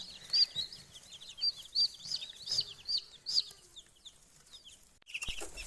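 Newly hatched chicks peep in short, high repeated bursts, several overlapping calls close by and fairly quiet, tapering off before a brief clunk at the end.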